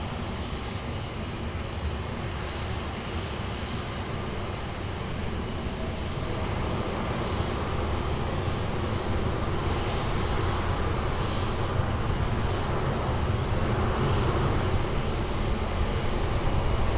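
A Korean Air heavy airliner approaching runway 20 at Lisbon Airport makes a steady, distant jet roar that swells gradually louder, with no voices.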